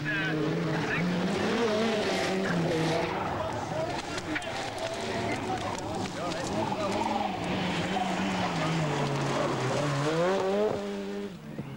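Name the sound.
Ford Sierra Cosworth rally car driving on stage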